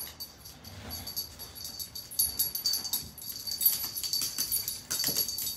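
A dog whimpers and whines in thin, high, wavering cries over a soft, rustling indoor background, the whining growing more insistent toward the end.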